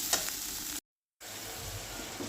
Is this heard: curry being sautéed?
yes